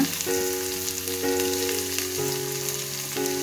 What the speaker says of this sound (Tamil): நாம் வெங்காயத்தை போட்டுக்கலாம் தக்காளியும் சேர்த்து போட்டுட்டு வதக்கி விட்டுக்கலாங்க